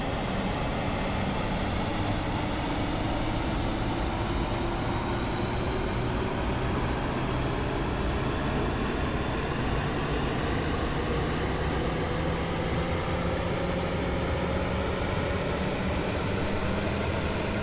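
An A32NX Airbus jet in Microsoft Flight Simulator produces a steady, loud engine roar with a whining turbine tone that slowly rises in pitch, continuous and unbroken throughout.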